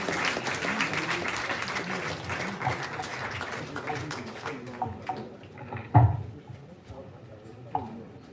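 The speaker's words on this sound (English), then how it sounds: "Please, a round of applause, please." Audience applause at a university TV launch event, a broad wash of clapping that gradually thins out and fades, leaving a few scattered claps and room noise.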